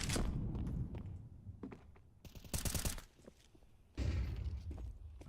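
Bursts of gunfire and footsteps from a Counter-Strike 2 esports match at a regional qualifier, several quick close volleys of shots separated by short gaps, no talking over them.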